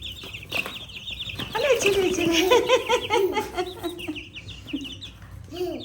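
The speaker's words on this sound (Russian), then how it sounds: "Цыпленочка?" A small chick cheeps in rapid high repeated chirps while being passed between hands, close and clear, with adult speech and soft talk to a child running over it.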